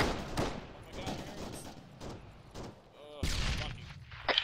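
Gunfire in a military video game firefight, with bursts of shots and explosive cracks spread through the clip and loud impacts near the end, mixed with voices over radio chatter.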